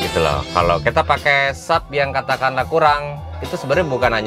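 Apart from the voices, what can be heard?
No everyday noises stand out.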